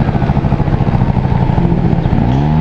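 A Honda Dio 27 scooter engine buzzes loudly and continuously while riding on a road, a rough droning putter with slight pitch shifts near the end.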